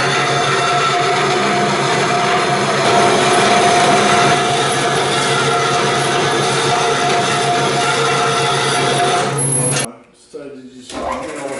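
Metal stock being cut into two pieces for a rear upper control arm mount on a Jeep JK, a loud, steady grinding cut running nearly ten seconds before stopping abruptly, followed by brief clatter and handling noise.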